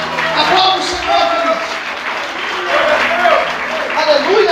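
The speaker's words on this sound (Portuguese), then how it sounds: "Você pode aplaudir ao Senhor por isso." A church congregation applauds during an evening worship service, a dense wash of clapping mixed with voices and crowd noise running steadily throughout.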